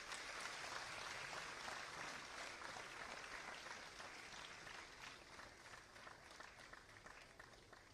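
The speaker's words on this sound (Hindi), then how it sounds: "आइए इस विशेष क्षण का हम सभी तालियों की करतल ध्वनि से स्वागत करें।" Audience applause at a live event with Uttar Pradesh Chief Minister Yogi Adityanath at a medical institute, a dense sustained clapping from a crowd that slowly tapers off over several seconds.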